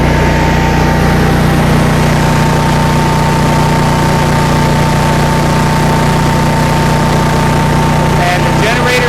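A 2015 Cummins home standby generator engine runs steadily under about a 40-amp load, a constant loud drone with a fixed hum throughout and a faint rattle near the end.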